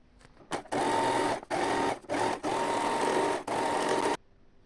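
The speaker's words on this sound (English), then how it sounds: "So I'm going to take it to the sewing machine." A sewing machine whirs loudly in several steady runs, stopping briefly between bursts of stitching.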